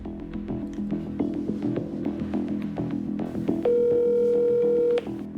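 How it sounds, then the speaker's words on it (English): Outgoing phone call ringing tone: a single steady electronic tone lasting a little over a second, heard after a stretch of low hum and background noise, with no talking. "let's see if she'll answer the phone"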